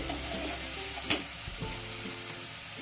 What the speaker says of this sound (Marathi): बारीक केलेला टॉमॅटो आहे तो टाकतोय पुन्हा परतून घेतोय